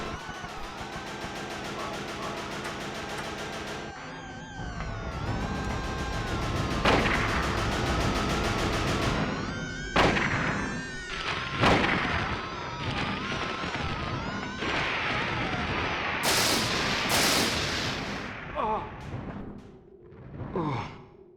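Rifle fire in the PS1 video game Silent Hill comes as a few sharp, loud bursts and crashes over a droning, tonal game soundtrack.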